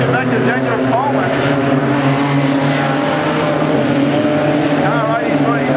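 Race cars roar around the Bunbury speedway during a feature race, a dense, continuous engine drone at close range with rising and falling whines as the pack passes.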